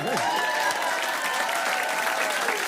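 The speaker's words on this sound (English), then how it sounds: "Round of applause, Willow." An audience claps steadily for a performer in a living-room style TV show, sustained applause close and loud throughout, with a high cheer or whistle rising briefly at the start.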